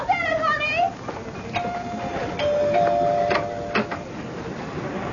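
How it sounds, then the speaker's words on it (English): A doorbell in a radio drama rings once with a descending ding-dong chime, followed by quieter clicks and faint tones in a room. "Daddy was in the study when the doorbell rang."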